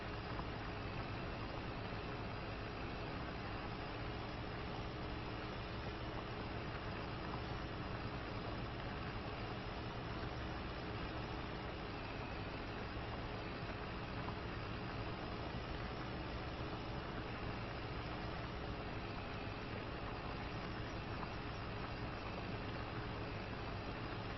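A Ford 6600 tractor in Farming Simulator 25 idles in a steady, continuous drone, set for winter ploughing. The engine hum holds even and unbroken throughout, with no talk over it.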